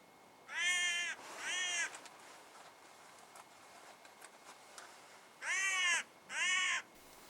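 Hooded crows in the Scottish Highlands answer with two pairs of loud, harsh caws, each pair of calls coming close together and separated by several seconds of quiet outdoor air.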